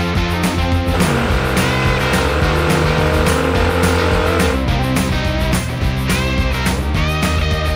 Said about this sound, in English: we can test if the motor actually shakes the whole thing